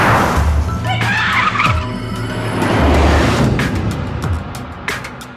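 A car accelerates hard with a roaring engine and squealing, skidding tyres as it speeds toward someone, loud and close in a tense street confrontation, with faint voices underneath.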